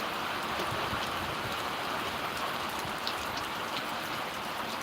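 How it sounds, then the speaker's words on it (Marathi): Heavy rain pours steadily, a dense continuous hiss of drops drumming on surfaces with no pauses, close and loud throughout. "खूप पाऊस इथे वातावरण आहे भावांनो"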